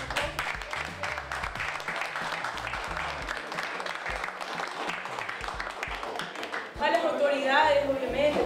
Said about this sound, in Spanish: pido un aplauso para ustedes